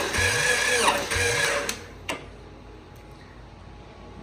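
A 1998 Honda Prelude H22A4 2.2-litre VTEC engine cranks during a compression test, a short burst of rhythmic starter whirring and chugging that stops after about two seconds, followed by a few clicks and quiet.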